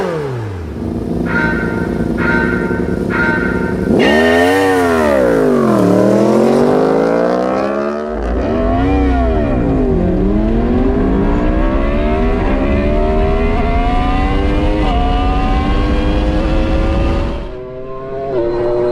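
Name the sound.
McLaren car and Yamaha R1 motorcycle drag race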